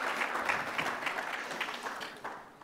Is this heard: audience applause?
yes